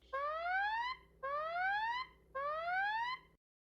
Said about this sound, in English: an alarm sounds in the last few seconds to alert you it's calling 911